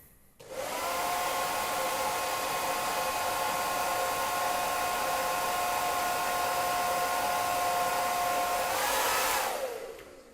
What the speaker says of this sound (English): Instead of my breath, I'm going to use a hairdryer